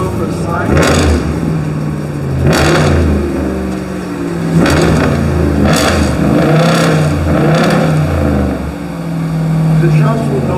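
A RAM truck with a HEMI V8 engine revs repeatedly in short bursts close by, each rise swelling and falling over a low rumbling idle, with someone talking between them.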